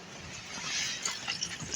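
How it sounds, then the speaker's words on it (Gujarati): Water is poured into a pot of fish curry, a soft splashing gurgle that rises and wavers briefly, fairly quiet and close. "હવે પાણી નાખવાનું છે ખાલી પાણી"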